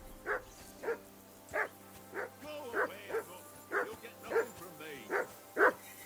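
A dog in Kingdom Come Deliverance 2 barks about ten times in an even, steady rhythm, each bark clear and moderately close over a low background hum.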